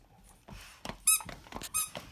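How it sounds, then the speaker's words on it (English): A squeaky pet toy at a Christmas morning gift opening with a pit bull and a cat gives a few short, shrill squeaks amid soft handling noise, close but fairly quiet. "What is that toy? What's this? Does it squeak?"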